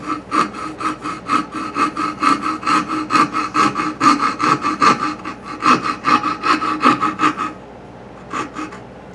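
A hand saw cuts through a wooden block for a pinewood derby car in fast, rhythmic back-and-forth rasping strokes, loud and close, pausing briefly before a few final strokes; no voices.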